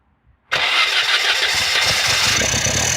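Skoda Forman car engine starting in cold weather, quiet before a sudden loud crank and catch that settles into a rough, steady close-up running engine.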